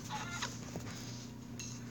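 Chicken clucking in the Minecraft video game, a short burst of clucks heard over a steady game background hum, with no talking.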